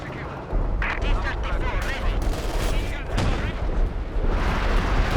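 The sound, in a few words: assault artillery fire in Company of Heroes 2 video game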